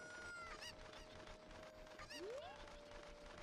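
Video game chickens from Ocarina of Time Randomizer let out a couple of brief squawks and a rising cluck amid a busy, steady game soundscape, with no speech over it.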